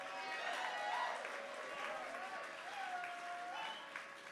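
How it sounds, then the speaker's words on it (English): A big outdoor crowd at the Human Be-In 50th anniversary celebration in Golden Gate Park, San Francisco, cheers and applauds in a steady, sustained wash of noise, with voices rising and falling over it. "Let's hear a big cheer for everybody who may not be here now,"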